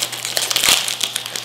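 A crinkly plastic packet of salty Mikado snacks is torn open close up, a quick burst of sharp crackling and crumpling.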